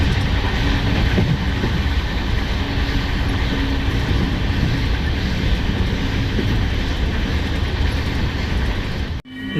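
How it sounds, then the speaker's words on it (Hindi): A train pulling into a station near Gurgaon, a loud, steady rumbling roar of rolling wheels and engine close by that holds for several seconds and then cuts off abruptly. "ट्रेन अपने निर्धारित समय से 15 मिनट के देरी पर पहुंची है।"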